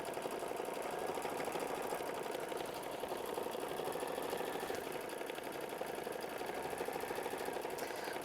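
An embroidery machine stitches out a quilt block design with a steady, dense mechanical whirr that runs on without pause, close and fairly quiet.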